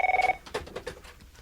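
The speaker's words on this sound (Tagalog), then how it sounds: "Ne, nagkiriringan ti telepono." A telephone rings with a short bright double-tone burst at the start, then fades into indistinct background sounds and faint movement.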